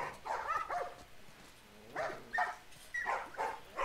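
A dog barking and yipping in the video game The Last of Us Part 1, a few short bursts of barks spaced apart, moderately near over a quiet background.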